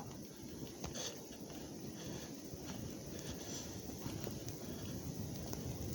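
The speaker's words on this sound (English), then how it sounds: "It is windy." Wind roars through a fluffy-snow blizzard on an outdoor hike. A steady, fairly faint low rumble of gusts buffets the microphone throughout, with no voices.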